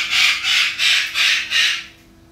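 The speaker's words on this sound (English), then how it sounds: "That's a noisy bird." A pet macaw gives five harsh, raspy squawks in a steady rhythm, close and loud, then falls quiet.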